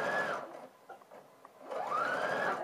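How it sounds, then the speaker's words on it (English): Sewing machine stitching a lapped seam with long stitches, a close whirring run that winds down, a quiet pause with small clicks, then the motor revving up again. "So I'm just going to do my stitches a little bit big just for this demonstration"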